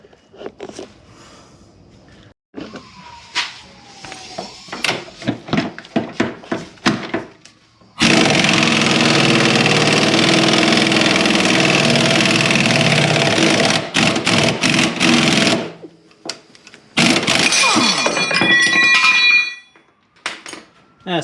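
A pneumatic air tool works on the upper and lower ball joints of a 2000 GMC Yukon: scattered metallic clanks and short bursts, then two long, loud, sustained hammering runs close by.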